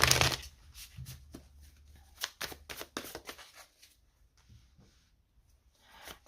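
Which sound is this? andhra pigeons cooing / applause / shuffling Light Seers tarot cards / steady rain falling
shuffling Light Seers tarot cards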